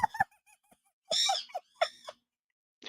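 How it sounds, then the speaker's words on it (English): A pet bird's short squeaks and chirps come in a few quick bursts separated by quiet gaps, heard close and alone with no talking. "the bird was squeaking"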